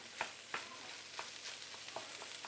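Lap cheong fried rice is stir-fried in oil in a hot pan, with a steady sizzle broken by several sharp, close scrapes and tosses of the spatula at an uneven rhythm.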